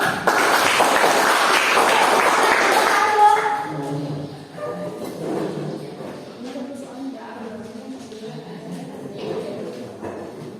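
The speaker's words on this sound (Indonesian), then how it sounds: "Oke, kelompok satu kita beri aplaus dulu." Classroom applause for group one, a dense burst of many hands clapping for about three seconds that then fades, followed by students murmuring and talking.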